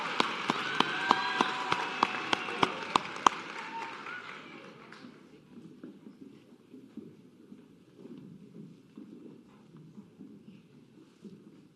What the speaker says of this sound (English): One more applause for this group of Tigers here.